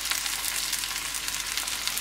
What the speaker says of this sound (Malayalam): സവാള നന്നായിട്ട് വാടട്ടെ.